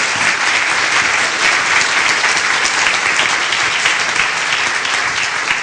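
A lecture audience applauds at a scientific conference, a dense, steady wash of clapping from many hands that holds at full strength throughout, with no talking over it.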